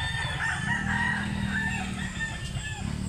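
A white Kelso rooster with yellow legs crows at a poultry market in Mantalungon, Cebu, one drawn-out call over a steady low hum and background market noise.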